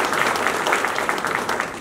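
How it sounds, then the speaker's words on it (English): Audience applause for a country musician named Entertainer of the Year by the Country Music Association of Ontario: steady, fairly loud crowd clapping, continuous and dense throughout, with no voices. "big applause for that, yes."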